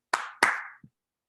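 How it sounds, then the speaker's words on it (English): Two sharp hand claps close together, followed by a soft, faint thump, then quiet. "You know why I'm clapping to that?"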